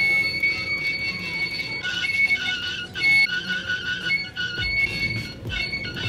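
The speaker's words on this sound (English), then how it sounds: "It makes this really funny squeaking sound." A battery-powered self-stirring coffee mug, empty, gives off a thin, high, wavering squeak over a low motor whir. It keeps going for several seconds at moderate level with no talking.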